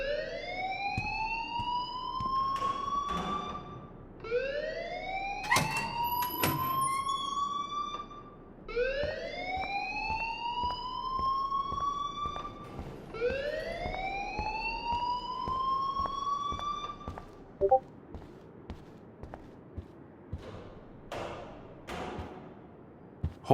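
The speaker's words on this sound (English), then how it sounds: "please turn off that alarm" In the Life is Strange video game, a fire alarm whoops in rising siren sweeps, loud and regular for about seventeen seconds, then cuts out, leaving scattered faint knocks and clicks.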